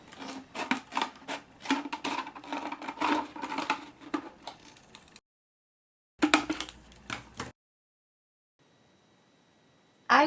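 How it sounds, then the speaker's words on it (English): Scissors cut around a plastic cola bottle while it is turned, giving a run of close, rapid snipping and crackling plastic that stops, briefly resumes, then ends with a final sharp snip. "then you cut around with the scissors"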